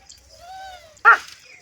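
A dog at a rural family home gives a drawn-out whine, then one sharp, loud bark close by, with no talk over it.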